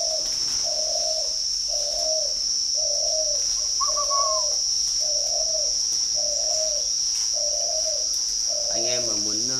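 A spotted dove coos in a steady, evenly spaced series of low hooting notes, repeating about every half second apart, over a constant high insect whine and faint background noise.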